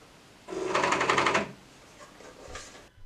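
An Elna 9000 computer sewing machine runs in a loud, rapid mechanical burst for about a second, then drops to quieter whirring with a faint clack near the end; no one speaks.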